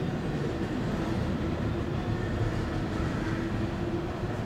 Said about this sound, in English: I may as well record the rest of the train.